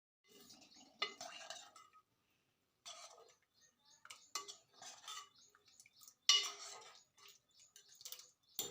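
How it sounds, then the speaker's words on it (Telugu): A spoon stirs dal into drumstick sambar in a pot, making soft intermittent scrapes and clinks against the metal. The bursts are close and quiet, separated by short pauses. "పప్పు అయితే వేసాక మంచిగా అయితే కలుపుకోవాలి"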